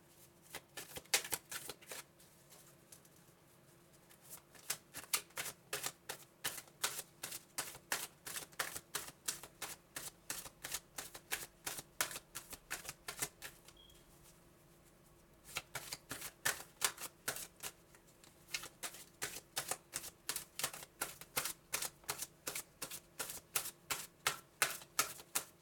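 Tarot cards being shuffled in repeated rapid bursts of crisp riffling and flicking, close and fairly quiet, with a short pause midway and no talking.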